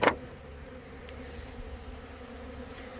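Honeybees in a robbing frenzy around beehives make a steady low buzzing hum that drones throughout, opening with a brief sharp knock and carrying faint scattered high ticks over the top.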